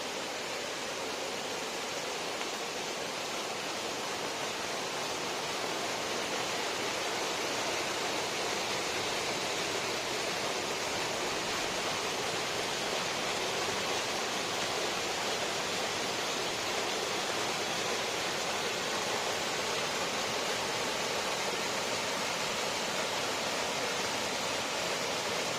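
Monsoon rainwater on the Karnataka coast flows in an even, unbroken rush, a soft broadband gushing that holds steady throughout with no voices.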